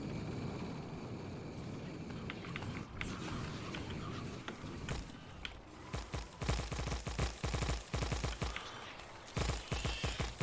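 Gunfire in the factory-building game Factorio during combat with robots: scattered shots at first, then dense rapid volleys of sharp cracks in clustered bursts, fairly close and loud, with no talking.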